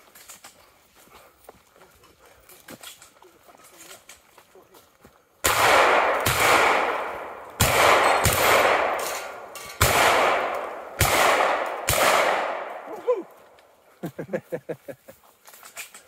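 Shotgun fire on a 3-gun jungle run stage, several loud, sharp blasts in an irregular series with echoing tails, following quieter movement and faint talk, then a few softer clattering sounds at the end.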